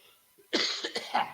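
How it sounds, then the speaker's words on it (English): A short burst of rough, close coughing, two or three hacks in a row with a faint wheeze between them. "I still got my nasty cough"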